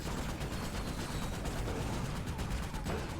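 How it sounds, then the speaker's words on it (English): Dual Vipers guns firing in the video game Ratchet: Deadlocked, a dense, continuous stream of rapid gunfire with steady loudness throughout, no voices over it. "The dual Vipers. I honestly don't mind these"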